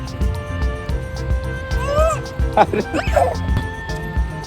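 A small puppy gives a few short, high yips and whines close by, mixed with people talking over a noisy background.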